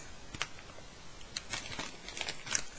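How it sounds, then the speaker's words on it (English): Sea-salted veggie chips crunch in several short, crisp bursts, close to the microphone and fairly quiet, with brief pauses between bites and no talking. "Maybe I shouldn't chew in the mic like that."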